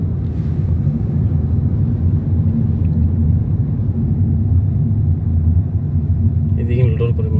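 A road vehicle overtaking, heard from on board as a steady loud engine and road rumble with wind buffeting fills the whole stretch, with a brief higher tone rising near the end.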